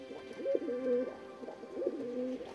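Pigeon cooing at an indoor pigeon show, where Oriental Frills and frill stencil rollers are exhibited; soft, repeated rolling coos close by, in two phrases, with no talking.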